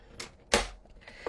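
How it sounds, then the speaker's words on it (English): A paper trimmer slices a sheet of card for a handmade brag book, giving a few sharp close cuts, one louder stroke in the middle, with no talking. "And then we're going to turn it and we're going to cut it at 5."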